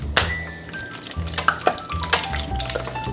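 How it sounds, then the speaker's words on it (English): Mashed potato croquettes with cheese fry in hot oil, a soft steady sizzle broken by frequent sharp pops and crackles, close and fairly quiet, with no voices. "All those pops that you're hearing are little bits of moisture and probably, realistically, little bits of our cheese that are bleeding through the exterior and popping as it hits the hot oil."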